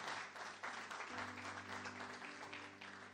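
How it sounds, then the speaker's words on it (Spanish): Strong applause from a church congregation during a sermon, a dense, continuous clapping from many hands with a low steady hum running beneath it. "Dele un fuerte aplauso a él."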